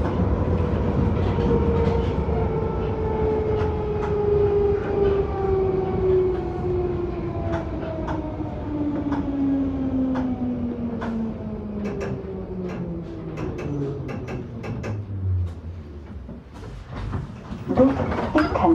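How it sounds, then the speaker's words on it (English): A London Underground Bakerloo Line 1972 stock train running between stations, its motor whine sliding steadily downward in pitch as it slows, over continuous rumble with clicks and rattles of the wheels on track, close and loud. "This is a Bakerloo Line train to Stonebridge Park."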